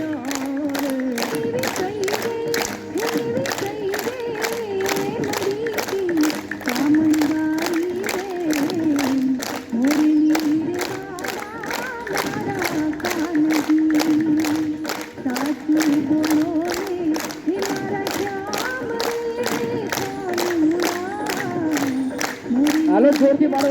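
A yoga aerobics group claps hard in a fast, steady rhythm, loud and close, with an instructor's voice running over the beat the whole time.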